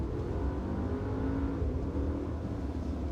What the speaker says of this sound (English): We'll start by having a little listen to the engine note.